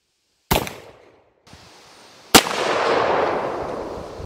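.454 revolver shots fired into a drywall test piece: a sharp, loud blast, then a quieter stretch of rustling noise, then a second close, loud crack followed by sustained rumbling noise.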